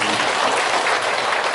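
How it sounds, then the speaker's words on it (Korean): Audience applause fills a forum hall at the Gumi Chamber of Commerce, a steady dense wash of clapping from a large crowd, loud and continuous with no speech over it. "박수입니다."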